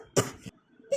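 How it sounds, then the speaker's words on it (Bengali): A sick person coughs at close range: a harsh double burst, then a short pause and one more cough, in a quiet room. "কাশি।"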